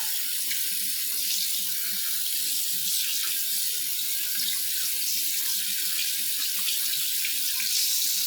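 Water runs steadily from a tap into a sink, a constant splashing hiss with slight variations as hands move through the stream.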